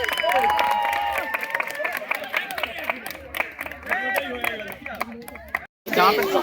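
A crowd at a picnic prize distribution claps for a winner, with scattered handclaps and cheering voices under a busy babble of nearby talk that breaks off briefly near the end.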